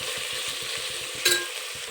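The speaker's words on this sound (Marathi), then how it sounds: "सगळं एकजीव करून घेऊ." Masale bhat with soaked soybeans being stirred in a pot over a steady sizzle, a quick rhythmic scraping pulse running throughout, with one brighter clink of the spoon against the metal near the end.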